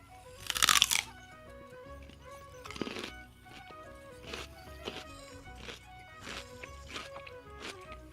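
Crisp, close crunches in the video game Genshin Impact as a character bites into celery: one loud bite, then several softer chewing crunches spaced out over quiet background music.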